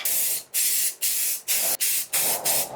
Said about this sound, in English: we're gonna spray right in this area right here and flick from there